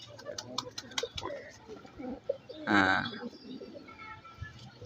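A pigeon coos briefly near the middle, a soft rounded burst standing out among background voices and faint clicking, heard during a pigeon sale where a person also speaks.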